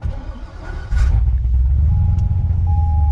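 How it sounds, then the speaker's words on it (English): A Chevrolet C6 Corvette with a 6-speed and Trick Flow top end kit fires up after a fresh tune, its engine catching and settling into a loud, steady deep rumble close by with no talking. "I'm gonna go ahead and fire it up"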